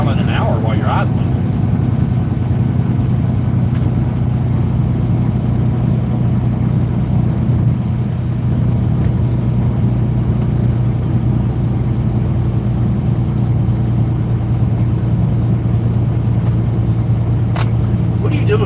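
A truck engine drones steadily at idle, loud and close, a constant low hum that barely changes across the whole stretch.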